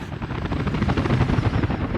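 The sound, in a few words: helicopter in video game Workers & Resources: Soviet Republic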